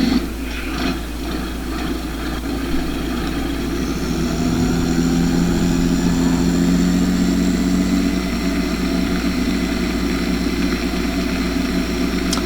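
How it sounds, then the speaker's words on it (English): A John Deere 4240 open station tractor wearing 4230 badges idles steadily at close range, a continuous low diesel rumble with a slight rise in tone partway through and no voices. "This is a tractor."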